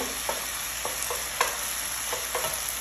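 Softened vegetables with mango pickle sizzle in a pan, with a steady frying hiss broken by a handful of light scraping stirs.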